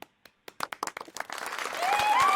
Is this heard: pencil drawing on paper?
no